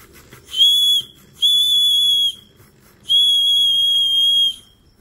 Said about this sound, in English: See if the whistle works.